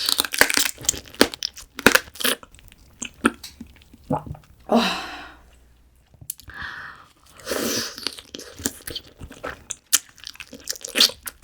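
Soy-marinated raw crab (ganjang gejang) being eaten close up, with bursts of crunching and chewing on shell spread through the clip, alone and fairly loud.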